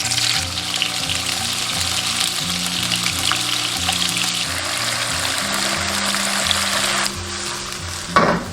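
Tofu pan-frying in hot oil over low heat, a steady close sizzle and crackle running continuously, with a brief clatter near the end.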